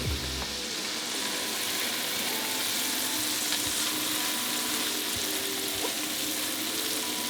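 Oil in a hot pan sizzles and hisses loudly and without a break as pasta water is added for a vodka pasta sauce. The noise is close, steady and broadband, with soft clinks from stirring.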